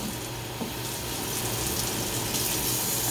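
Water pours steadily into a pot of jasmine rice, a continuous, close splashing gush that holds at an even level for a few seconds with no talk.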